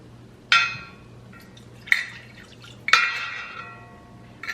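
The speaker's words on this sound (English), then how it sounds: "Just pouring." Liquid is poured while soup is cooked in a kitchen, heard as three sharp splashy bursts of pouring or dripping, each fading quickly, separated by quieter gaps over a low steady hum.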